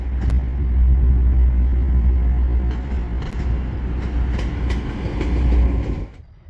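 A train rumbles loudly and steadily close by through a railway station, with sharp metallic clicks and clatters, then the noise drops off abruptly near the end.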